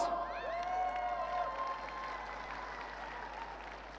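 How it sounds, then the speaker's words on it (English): Audience applause fills a large hall at a global business event, a steady, dense wash of many hands clapping that continues throughout, with faint cheering and a few tonal sounds drifting above it. "Applause!"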